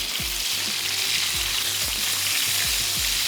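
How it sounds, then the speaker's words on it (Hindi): Eggs sizzle and fry in a hot pan for a Kolhapuri egg curry, with a steady close hiss and a few soft stirring knocks, no talking. "हमने यहाँ पे ऐड कर दिए इसमें अंडे। हल्का सा इनको फ्राई करते हैं"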